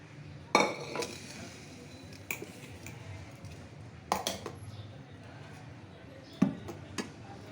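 Pieces of marinated mutton are placed into a pressure cooker, making sharp metallic clinks and clatters at scattered intervals over a quiet kitchen background, with some soft talking between them.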